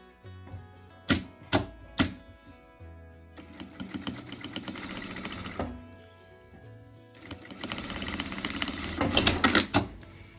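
A sewing machine stitches the lining of a small fabric coin purse, opening with a few separate mechanical clicks, then two bursts of rapid, rattling stitching close to the microphone with a short pause between them.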